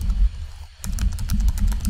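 Rapid clicking of keys on a computer keyboard, a quick burst of typing close by with a short pause partway through.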